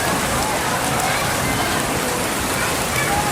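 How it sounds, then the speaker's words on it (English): Heavy rain pours steadily on a dusty, rocky village road, a dense unbroken hiss that stays loud throughout, with a voice faintly present beneath it. "it's pouring, it's raining"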